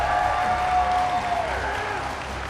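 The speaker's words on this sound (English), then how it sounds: "Can we get a huge round of applause for that match?" Crowd applause after a Pokémon TCG Masters final at the 2022 North America International Championships, a steady broadband roar of clapping filling the hall with a faint tone running through it.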